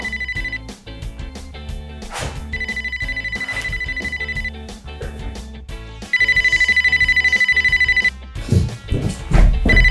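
A telephone rings in repeated electronic bursts, pausing between rings, with a louder burst near the end followed by some rustling noise.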